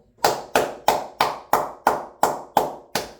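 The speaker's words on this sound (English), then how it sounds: "Sealer gets a round of applause for the sack" Ten sharp, evenly spaced hand claps ring out in a steady rhythm, loud and close, each one decaying quickly before the next, with no talk over them.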